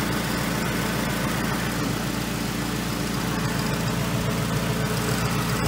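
Engine of a 2002 Toyota Camry running steadily, a constant close idle drone with a low hum and a faint cooling fan, no talking.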